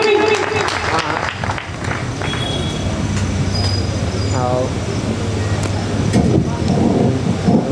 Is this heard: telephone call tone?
no